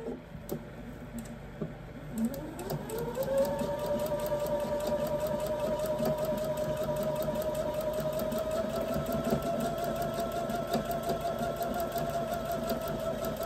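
A sewing machine stitching around the edges of fabric hot pads runs in a steady, close, continuous hum with a fast rapid ticking, after a few faint clicks at the start.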